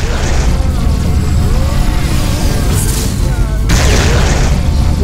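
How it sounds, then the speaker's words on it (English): Incoming missiles exploding against a spaceship in the space combat game Rebel Galaxy, loud continuous deep booming and rumble with a sharper impact burst partway through. "Missiles inbound. Cover shields down."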